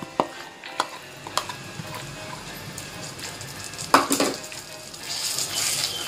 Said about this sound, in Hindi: लो फ्लेम पर ये दोनों को अच्छे से मिक्स कर लेंगे